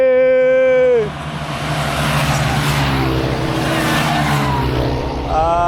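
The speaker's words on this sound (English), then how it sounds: "These guys, the motorbikes are racing!" Motorbike engines roar loudly as they race past close by, a continuous rushing drone rising and falling, with a brief shout at the start.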